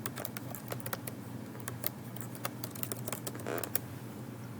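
Rapid clicking of keys on a computer keyboard as a search is typed, with a steady patter of close, light keystrokes over a low background hum.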